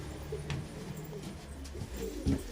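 Newly hatched baby pigeons in a pigeon loft give faint, soft cooing calls against a quiet background, with a slightly louder coo near the end.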